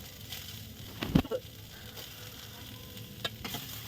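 Tomatoes sizzle and fry in a pan for masala oats, a steady soft crackle broken by a loud clank of a spoon or utensil against the pan.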